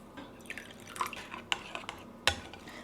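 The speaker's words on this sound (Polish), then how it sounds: "ja dam jeszcze odrobinę wody, żeby był bardziej rzadki" Water trickles and drips into a sauce in a home kitchen, with soft splashes and light clinks of utensils against a dish, close and fairly quiet.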